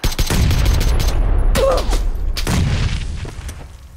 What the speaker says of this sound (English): Ooh, nades.